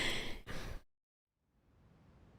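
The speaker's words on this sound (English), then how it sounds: "Why am I suddenly yawning now?" A single breathy yawn, close and fairly loud, lasting under a second and fading into quiet room noise.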